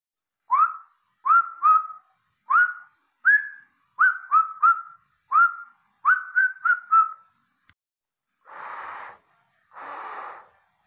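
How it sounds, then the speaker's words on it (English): A person whistles a tune in a string of short, clear notes, some rising and grouped in quick pairs and triplets, followed by two longer breathy blown tones, close and fairly quiet, with no talking. "Just do it like this, and then you can whistle a tune."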